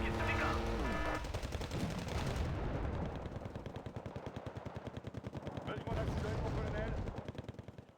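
Gunfire aimed at a ship in a naval video game, with rapid repeating bursts of anti-ship fire pounding loudly, easing slightly midway, then swelling again before fading.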